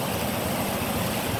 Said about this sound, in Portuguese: Olha aí, ó, os carros passando,